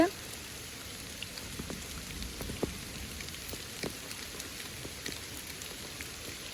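Heavy downpour in a village, a constant close hiss of rain with scattered drops ticking on nearby surfaces throughout.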